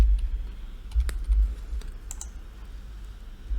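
HTML code is typed quickly on a computer keyboard, giving a run of light, close key taps in short irregular bursts over a low steady hum, with no talking.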